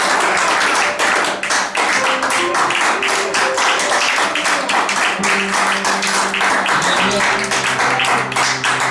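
A church congregation applauding the Lord during a worship service, sustained loud rhythmic clapping that fills the room, with sung or spoken voices carrying over it.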